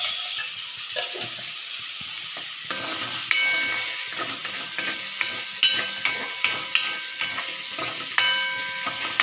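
Garlic and onion fry in plenty of hot oil, a constant close sizzle and crackle with scattered pops, plus occasional light clicks of a utensil stirring the pan.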